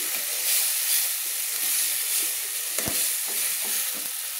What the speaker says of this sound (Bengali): তো মশলাটা আমি তেলের মধ্যে ভালো করে কষিয়ে নিচ্ছি।